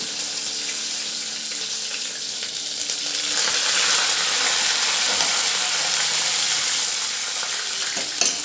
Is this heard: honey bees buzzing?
no